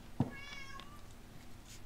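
A pet cat gives a faint, short meow early on and then falls quiet against a low hum of room noise.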